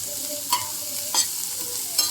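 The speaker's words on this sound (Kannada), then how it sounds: "ಇದು ಒಂದು ಸ್ವಲ್ಪ ಫ್ರೈ ಆಗಿದೆ" Chana dal and urad dal fry in a pan with a soft, steady sizzle. Three distinct scraping stirs of a spoon at an even pace break through the frying sound.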